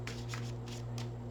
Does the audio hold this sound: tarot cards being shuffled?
yes